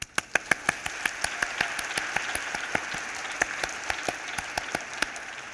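A crowd at the Creative Equals RISE 2022 awards event gives sustained applause. A few sharp, close claps ring out over a steady wash of hands that lasts more than five seconds.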